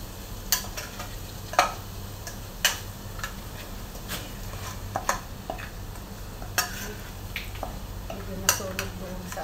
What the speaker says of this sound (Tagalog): Kasi mag-fry ako ng kanin.